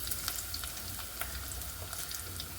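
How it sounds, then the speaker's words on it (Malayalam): Ginger, garlic, onion and green chili frying in hot oil, producing a bright, steady sizzle with scattered sharp pops and crackles, close and fairly quiet. "ചൂടായ എണ്ണയിലേക്ക് നമുക്കിതെല്ലാം ആഡ് ചെയ്ത് കൊടുക്കാം"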